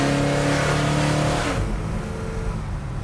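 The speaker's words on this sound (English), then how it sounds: "And then I'll give it a little bit of gas and you can feel it." A restored 1965 Chevrolet Impala with a roughly 425-horsepower big block engine revs hard and accelerates, loud and close. The roar eases into a lower, steadier rumble after a second and a half.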